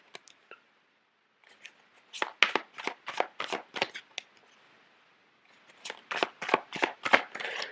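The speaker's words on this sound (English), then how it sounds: "let me lay out the cards" Tarot cards are laid out on a surface: two bursts of quick, crisp card snaps and flicks in rapid rhythm, close and fairly quiet, separated by a near-silent pause.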